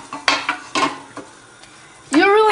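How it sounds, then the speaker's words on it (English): Utensil scraping and clinking against a pan while onions and vegetables are stirred and sautéed with salt for tacos or quesadillas, a few sharp knocks followed by a louder rasping scrape at the end. "And just continuously stir it."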